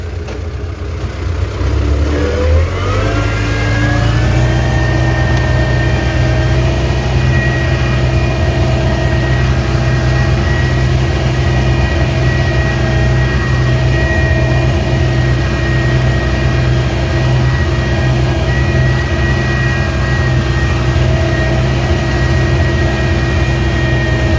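A T-40 tractor engine revs up from idle and settles into a loud, steady, low rumbling drone while pulling a disc harrow in a village field, with a slight whine above it.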